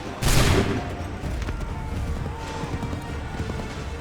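Musket volley gunfire from a line of soldiers in Assassin's Creed III: one loud, sharp crack of massed shots near the start, followed by a lingering rumble and a busy battlefield din.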